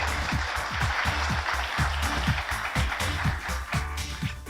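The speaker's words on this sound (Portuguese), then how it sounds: "Uma salva de palmas." Applause at a São Paulo municipal data-protection forum, a broad steady wash of clapping filling the hall, with low rhythmic music thumping underneath throughout.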